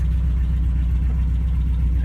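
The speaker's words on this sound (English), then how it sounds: "And now we're idling" A 1967 MGB GT engine idling at about 1100 rpm, a steady low rumbling hum heard close and continuous with no talking.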